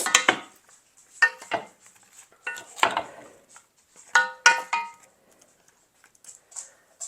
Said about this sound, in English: all I want to do is stir it up, making sure I've got oil on all of the things